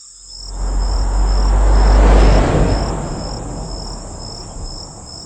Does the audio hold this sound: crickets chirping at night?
yes